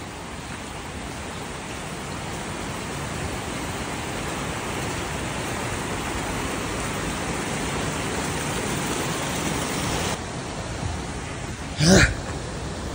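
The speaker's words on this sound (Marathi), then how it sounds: "एवढा भारी वॉटरफॉल" Steady, loud roar of a powerful waterfall in the Konkan region, continuous broadband rushing water filling the whole scene, with a brief louder burst near the end.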